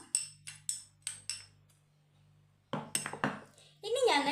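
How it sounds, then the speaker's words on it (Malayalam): A spoon mixes oat powder in a bowl for a homemade face pack, with five quick bright clinks, a brief pause, then busier scraping and tapping before a voice starts speaking. "രണ്ടും കൂടെ ഒന്ന് മിക്സ് ചെയ്തെടുക്കാം"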